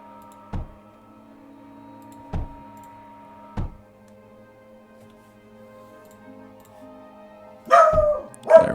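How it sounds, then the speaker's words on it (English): A dog barks three times in single sharp woofs spaced a second or two apart, faint and indoors beneath a steady hum of game music, followed by a louder burst of clattering noise. "If you can hear my dog in the background"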